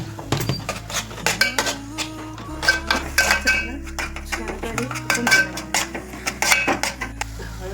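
Tomato and onion are stirred in a cooking pan for a prawn chutney, a spoon clinking and scraping against the metal in repeated uneven strokes, close and moderately loud.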